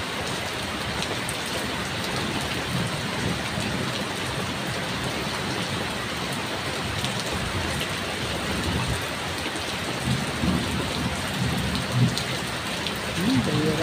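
Heavy rain pours steadily in strong wind, a dense continuous roar of drops hammering surfaces, with a faint voice occasionally audible beneath it.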